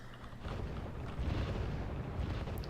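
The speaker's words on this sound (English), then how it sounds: "81mm or 82mm mortars in this case tend to lack killing power, but when you have 3 of them firing at once, you can do some work" Three 81mm or 82mm mortars firing together in a video game, heard as a dense, continuous low rumble of booms and blasts with no clear separation between the individual shots.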